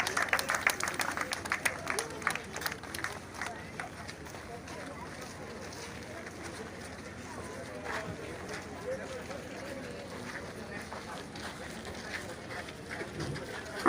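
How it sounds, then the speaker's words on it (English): An audience applauds outdoors at a prize ceremony for a charity rain run, with a burst of clapping at the start that settles into a quieter, sustained patter, heard fairly faint and at a distance. "So I think they deserve a huge round of applause."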